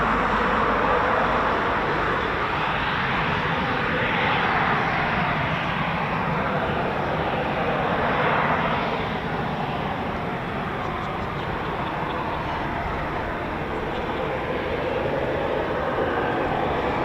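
RAF Eurofighter Typhoon FGR4 jet climbing away, a loud continuous broadband engine roar that swells and shifts in pitch as it passes, with faint voices underneath.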